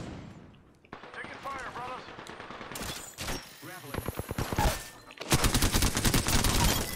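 Rapid gunfire bursts crackle in the Apex Legends battle royale game, dense overlapping shots building into sustained automatic fire toward the end, mixed with game voice lines and a player talking.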